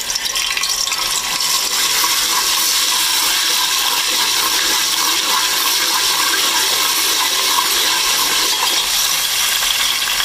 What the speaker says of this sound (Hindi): अब हम अदरक लहसुन का पेस्ट डालेंगे।